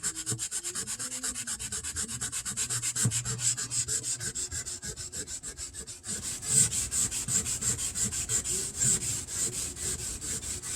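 Wet sanding by hand on a flea-market Luna Dragonfly guitar, a steady rasping rub in close, even strokes that grows brighter and louder partway through, with no voices.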